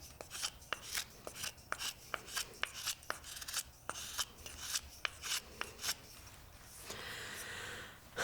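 A knife shaves and smooths a wooden bow drill spindle in repeated short rasping strokes, roughly one or two per second, close and clear, ending in a steadier scraping stretch.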